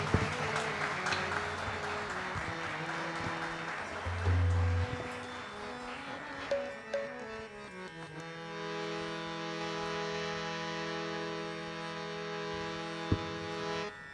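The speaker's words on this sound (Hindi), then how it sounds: "जोरदार तालियों से भजन प्रांगण को भक्तिमय करिए" An audience claps at a bhajan kirtan during a Saraswati Puja celebration, a dense wash of applause that gradually gives way to sustained devotional music tones.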